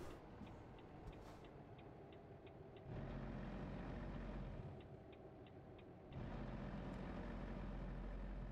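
Volvo VNL truck engine in American Truck Simulator, a steady low diesel drone that steps up in loudness partway through, with faint repeated ticking beeps in the background.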